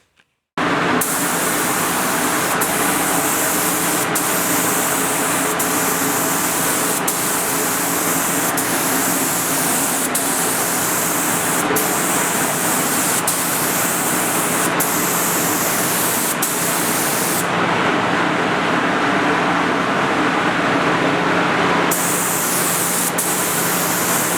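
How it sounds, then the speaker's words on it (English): A spray gun lays epoxy sealer onto the hood of a 1966 Willys CJ5, a loud, steady hissing rush of air and spray close by, running continuously with brief dips, no voices. "we have some epoxy sealer mixed. We'll get that going and we'll start spraying the hood."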